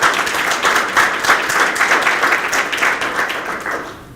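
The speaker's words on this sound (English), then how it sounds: "if everybody can give a round of applause" Applause from an audience at a future teacher signing day ceremony, a thick even wash of clapping that holds steady and then thins out toward the end.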